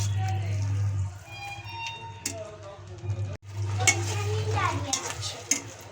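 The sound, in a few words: adding whisked yogurt to frying spice masala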